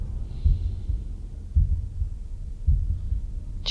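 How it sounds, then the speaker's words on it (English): Heartbeat thumping from inside a box in the puzzle video game The Room, a low, muffled double-pulse throb repeating about every second and a bit, steady and close against a dark ambient hum. "I really don't like that it's heart beating in the box."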